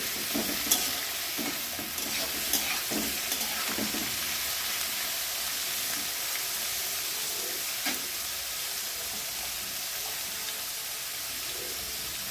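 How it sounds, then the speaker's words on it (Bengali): Chopped carrots stir-fried in a pan for eggless homemade chow mein, a steady close sizzle running throughout with scattered scraping stirs and clinks near the start and again around the middle, no voices. "এরপর আমি কেটে রাখা গাজরগুলো দিয়ে দেবো। আবার একটু নাড়াচাড়া করে নেব।"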